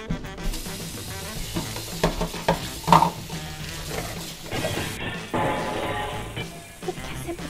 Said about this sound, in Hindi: तू जाके बर्तन धो रही है कि तोड़ रही है?